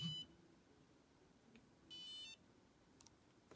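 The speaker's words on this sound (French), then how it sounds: "Ce signal sonore nous signifie que nous sommes bien rentrés en mode programmation." Control Medi Multi environmental control unit entering programming mode: a few short electronic beeps, a brief one at the start and a longer tone mid-clip, faint against a quiet room.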